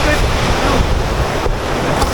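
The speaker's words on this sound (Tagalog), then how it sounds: "Grabe, ang ganda ng alon mga kuys." Ocean surf rolls in at a Siargao beach spot, a steady broadband wash of waves with wind buffeting the microphone throughout and no clear separate break.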